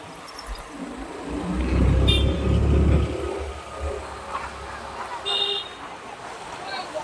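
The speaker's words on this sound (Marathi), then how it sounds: "सो ही पाचनेला जाणारी बस आहे, गेली ही." A bus to Pachne passing by on a village road, its engine rumble swelling, peaking and fading over a few seconds, with brief horn-like tones amid background street noise.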